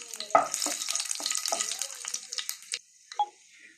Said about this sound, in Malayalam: ഇതിലേക്ക് നമുക്ക് കടുക് ഇട്ട് കൊടുക്കാം